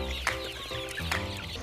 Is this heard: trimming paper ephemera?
no